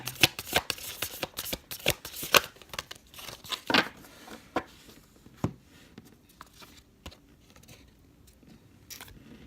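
A Moonology oracle card deck is shuffled close up in quick papery riffles and slaps, dense at first and then thinning out to sparse taps near the end.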